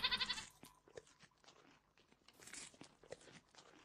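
A goat in the game Minecraft bleats in a short nasal burst at the start, followed by softer clicks and scattered game sounds over the rest of the moment.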